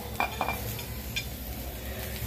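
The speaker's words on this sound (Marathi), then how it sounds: "कांदा व्यवस्थित परतून झालेला आहे, त्याच्यात थोडं आपण टोमॅटो कापलेले टाकूया" A spatula clinks against a pan as chopped tomatoes are stirred into sautéed onion for cashew paneer masala: two quick metallic taps, then a softer scrape over a low background hum, with no talking.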